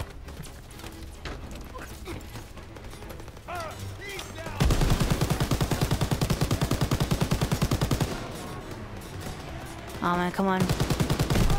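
Rapid bursts of half-track machine gun fire in the Call of Duty WW2 war game, a loud sustained rattle for several seconds with shorter bursts later, amid battle noise and brief player speech.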